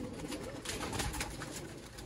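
Breeding pigeons coo softly in a loft, low murmuring calls that blend with steady background hum, alone without speech.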